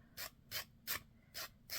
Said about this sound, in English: take a piece of sandpaper or a sanding block